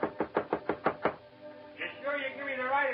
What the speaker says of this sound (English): Colorado looked empty, but I knocked anyway.